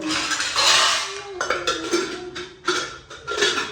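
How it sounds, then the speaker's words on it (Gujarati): A mother washes dishes and utensils, steel pots and cutlery clanking and clinking in irregular bursts close by. "વાસણ જડાવે છે"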